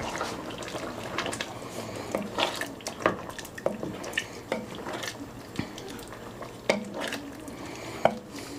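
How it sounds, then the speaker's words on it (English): Tequila stirred into a pot of carnitas gives soft scraping and clinking of a spoon against the pot, with wet sloshing and scattered small knocks, fairly quiet and close. "Give it a good stir."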